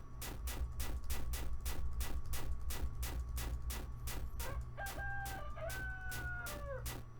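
A rooster crows loudly near the end, a long drawn-out cock-a-doodle-doo over a steady pounding beat of rhythmic thumps that runs through the whole stretch.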